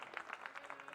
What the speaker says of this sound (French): je vais vous demander de faire un tonnerre d'applaudissements